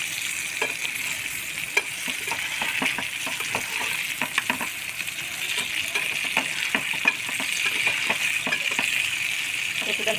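Bangda mackerel fish frying in a pan with a steady, close hiss of sizzling oil and scattered crackles and pops running throughout, without talk.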